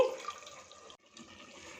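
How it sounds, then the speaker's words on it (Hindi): Water poured into a frying mutton gravy for a handi-style dam ka gosht, a brief splashing pour over steady sizzling that cuts out for a moment and then resumes as the meat keeps frying. "इसमें 2 टेबलस्पून पानी डालेंगे"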